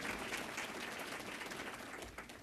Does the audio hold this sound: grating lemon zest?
no